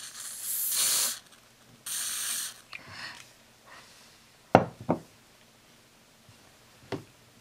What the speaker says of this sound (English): just lightly press on the nozzle of the hairspray